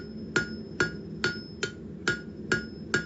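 Hammer blows forging a taper on a steel fire poker, seven evenly spaced ringing strikes on the anvil at a steady rhythm, close and clear with a faint tone sustaining between hits.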